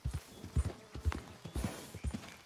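Horse hooves clip-clop at a steady walking rhythm along a narrow path in the video game Red Dead Redemption 2, close and fairly loud, with a brief whinny-like tone and no speech.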